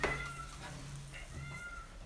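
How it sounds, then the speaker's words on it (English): Cats outside a home meow to be let in, giving a few drawn-out, moderately close calls in a quiet room. "We got some kitties outside that want to come inside"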